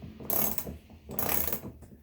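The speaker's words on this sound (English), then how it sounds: "16mm socket. And just screw it in." A 16mm socket on a ratchet turns a bolt into a kayak rail mount, giving two quick bursts of close, crisp clicking separated by a short pause.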